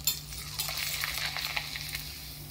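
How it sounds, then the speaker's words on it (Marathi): A finger millet papad fries in hot oil, giving a close, steady sizzle with crackling bursts and a low hum underneath. A few faint utensil clinks sound as it puffs up, with no talking. "आता आपण याच्यात नाचणीचा पापड तळूया."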